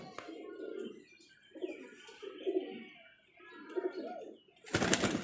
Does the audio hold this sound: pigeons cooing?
yes